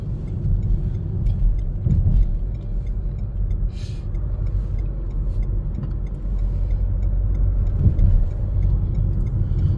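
A car accelerating and merging onto a motorway, with steady loud engine and road rumble throughout and occasional faint ticking from inside the cabin.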